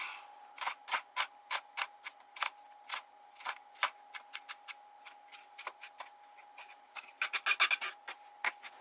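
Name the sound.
knife cutting food finely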